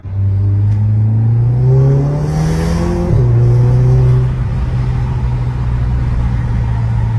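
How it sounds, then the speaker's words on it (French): A turbocharged car engine drones loudly up through the revs under full boost, dips briefly as it shifts, then pulls on steadily with a constant rumble and faint turbo whistle. "il faut vraiment écouter le turbo, où tu sens qu'il est vraiment en pleine charge"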